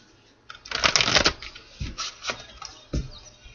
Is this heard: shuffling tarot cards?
yes